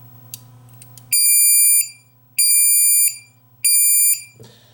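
Three long, loud electronic beeps from an LM317 regulated power supply kit, each about a second, evenly spaced with short gaps, over a faint low hum.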